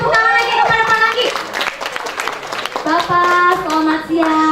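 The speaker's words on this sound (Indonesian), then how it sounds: "Kita beri tepuk tangan lagi kepada Pak Aranggi." An audience at a parenting seminar claps for an expert speaker, a short burst of hand clapping heard close, partly covered by loud voices talking over it.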